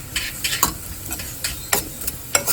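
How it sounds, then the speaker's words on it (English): Groundnut oil in a frying pan for egg curry, with a soft steady sizzle under repeated scraping and stirring strokes of a utensil against the pan, close and fairly loud, with no talking. "So I have poured a little oil, groundnut oil."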